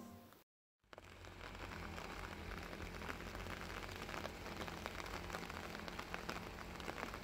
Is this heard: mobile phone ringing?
no